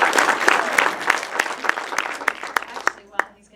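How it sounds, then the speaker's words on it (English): Short round of applause from an audience at an evening business talk, steady clapping with a few louder claps standing out before it tapers off near the end. "I want to give him a quick round of applause."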